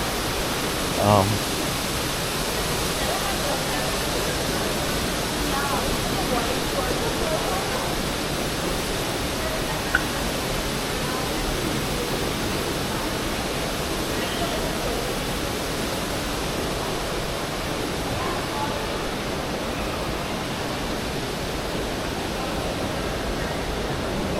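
Water pours steadily from an art installation in Doha's Hamad International Airport, a broad, constant rushing wash heard up close with a faint clack early on and no talk over it.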